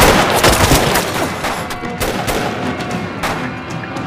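Heavy enemy gunfire rattles through a battle in a wartime Chinese resistance drama, sharp close shots and bursts repeating quickly over a rumbling background, no voices.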